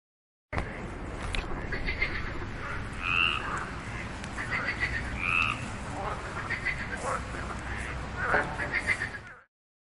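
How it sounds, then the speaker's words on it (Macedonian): Frog croaking in a series of short, rhythmic calls across the clip, fairly close and steady against a busy natural background, with a few brighter chirping notes mixed in. "Жаба."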